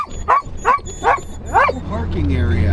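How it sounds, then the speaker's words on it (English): A dog barks four times in a steady rhythm inside a car, close and loud, with whimpering between barks and someone talking over it. "No barking."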